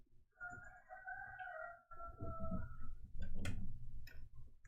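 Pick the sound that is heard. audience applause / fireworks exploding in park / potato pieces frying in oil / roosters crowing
roosters crowing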